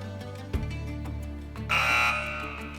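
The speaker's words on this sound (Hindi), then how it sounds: "सैयद सालिस हैदर ने सबसे पहले बज़ किया है।" A quiz-show contestant's buzzer fires during a Ramzan special Islamic knowledge quiz, a sudden loud tone with a sharp onset that rings steadily for about a second over background music and studio hum.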